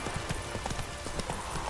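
Horse hooves clip-clopping from Roach, the horse in The Witcher 3 video game, a quick steady gait of distinct hoof strikes repeating evenly over a short stretch.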